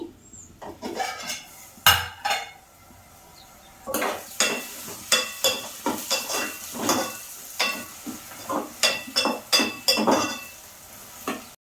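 Onions and green chillies cook in a pan, with repeated sharp scraping and stirring strokes of a utensil against the metal over a soft background sizzle, close and fairly loud, with no talking.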